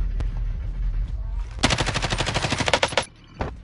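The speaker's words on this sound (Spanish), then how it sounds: "Ahí se escucharon los balazos." Rapid automatic gunfire in the video game Warzone, a loud sustained burst of closely spaced shots after a few scattered single shots, ending with one more isolated report, with faint voices underneath.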